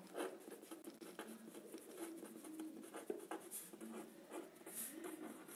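Marker or chalk scraping across a board as a lecturer writes a definition during a maths lecture on series, a steady run of soft strokes and taps close by, with no talking.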